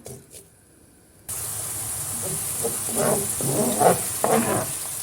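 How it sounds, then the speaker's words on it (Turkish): Two chopped onions start sautéing in a pan for a Black Sea collard greens dish, a sudden loud steady hiss that begins after a quiet moment and continues close by with crackling bursts and clatter. "Yemeklik olarak doğramış olduğum iki tane soğanı ilave ediyorum ve soğanlarım pembeleşinceye kadar soteliyorum."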